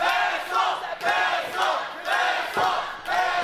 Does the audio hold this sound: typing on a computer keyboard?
no